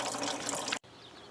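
Coolant draining from a 1996 Jeep engine during a water pump replacement, a steady close rush of liquid that cuts off abruptly, followed by a quieter trickle.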